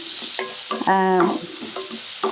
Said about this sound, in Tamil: கொஞ்ச நேரம் ஃப்ரை ஆனாலே நல்லா ஃப்ரை ஆகிடும்